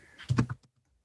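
A short burst of several computer keyboard keystrokes, close and fairly quiet, clustered in under half a second before falling silent.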